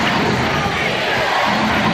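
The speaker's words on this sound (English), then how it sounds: "Chant of defense from the crowd." A packed arena crowd at a 1991 NBA playoff game between the Chicago Bulls and Detroit Pistons roars and chants for defense, a loud, dense wall of voices that holds steady throughout.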